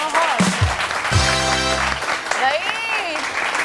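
Studio audience applause on a Pakistani morning TV show, a steady wash of clapping running beneath voices and tonal sound throughout.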